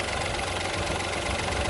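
Three-cylinder car engine idling with vibration passing through its mount, a steady low rumble recorded up close with no speech.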